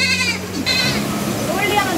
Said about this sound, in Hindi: खटाखट घास खाने में लगी पड़ी हैं बकरियां।